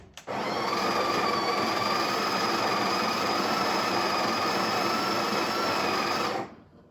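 A Breville Barista Express BES870 espresso machine's built-in grinder grinds coffee beans in one steady, loud, close whirring burst of about six seconds that stops abruptly.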